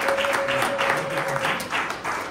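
A church congregation applauding, dense steady clapping from many hands that fills the space loudly throughout, with a sustained tone and faint voices underneath.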